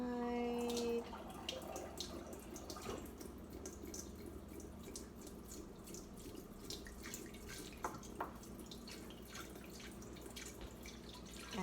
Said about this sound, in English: And I'm going to just kind of pour it down the side.